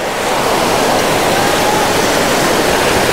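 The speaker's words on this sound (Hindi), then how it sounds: "पानी की आवाज़ पता नहीं मेरी आवाज़ आने दे रही है कि नहीं आने दे रही।" A river near Kasol in Himachal Pradesh rushes past close by, a loud, steady broadband roar of flowing water with no breaks and no voices over it.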